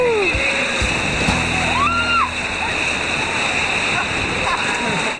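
Green River rapids crash and splash in a continuous loud roar around a raft, with faint voices and scattered whistle-like calls heard over the churning water.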